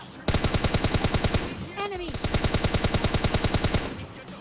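Rapid automatic gunfire from the mobile battle-royale game PUBG Mobile Lite, loud, dense bursts that pause briefly around a short rising tonal effect before resuming.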